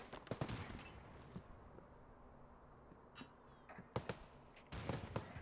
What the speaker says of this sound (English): someone's shooting at someone over here, because I'm hearing fire bounce off the